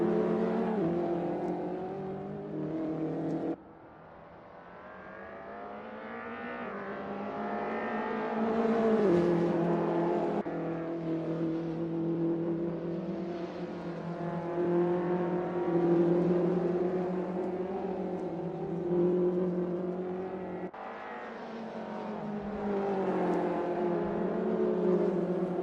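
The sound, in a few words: BMW touring car racing at Zwartkops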